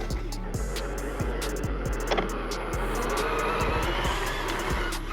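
FMS R/C Hummer rolling freely over dirt and rock with little drag brake, giving a steady close crunching rumble with scattered sharp ticks and pops of gravel, no voices.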